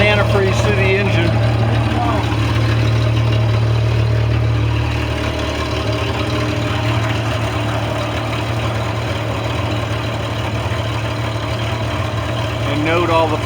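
A boat engine idles during winterizing as antifreeze is run through it, a steady low drone humming throughout, with a person talking over it.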